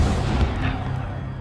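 Siege of Yorktown cannon fire: a dense, rumbling barrage of heavy booms, loud and continuous with a thick low roar, fading slightly toward the end.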